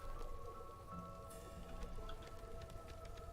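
Steady rain in the video game Against the Storm, a dense constant hiss of falling drops with scattered brighter droplet ticks, held at an even level throughout.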